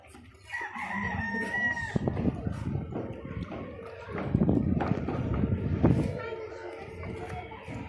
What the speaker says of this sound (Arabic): كانت دجاجة جت اهي.